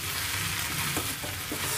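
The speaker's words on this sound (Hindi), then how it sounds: "अब आप इसे अच्छे से मिक्स कर लीजिए।" Ground masala and potatoes are stirred in a pan of potato do pyaaza, a brief, steady, close scraping and sizzling rustle that stays loud and even throughout.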